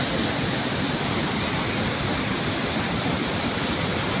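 Water rushing steadily at Bhimkund waterfall in Mayurbhanj–Keonjhar, a loud, dense, continuous roar close by with no pauses.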